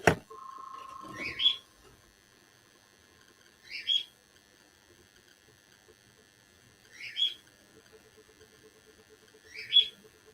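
A pet bird gives four short, bright chirping calls spaced a few seconds apart in a quiet indoor room, each one distinct and fairly near, after a brief hum and a faint knock at the start.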